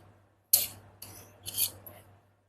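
Scissors slice through blouse fabric in three close, crisp cutting strokes, each a short rasping swish, with no talking.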